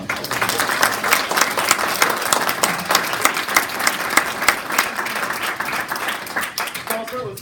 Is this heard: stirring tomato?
no